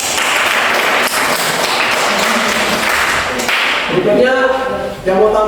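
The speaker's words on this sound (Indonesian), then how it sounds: "Tepuk tangan untuk kelompok 2" A classroom audience gives group 2 a round of applause, a dense, steady wash of many hands clapping that fills the room loudly before fading as voices begin to rise near the end.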